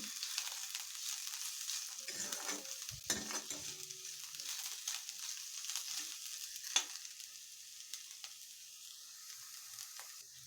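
Onion sautéing in a pan for an Indian cauliflower curry, giving a steady faint sizzle with occasional stirring scrapes and a sharper clink of the spoon against the pan.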